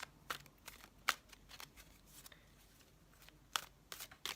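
Square tarot cards being shuffled by hand, giving quiet, scattered riffling flicks and soft card snaps at irregular intervals, with a few sharper slaps standing out.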